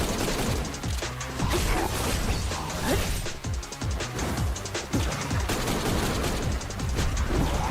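Loud, chaotic video game gunfire aimed at civilians, with repeated sharp shots and crashing impacts piling up continuously under a constant din.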